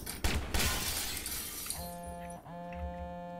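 Glass shatters loudly in the video game Watch Dogs, a sharp crash near the start followed by scattered tinkling, then steady electronic tones and hum take over.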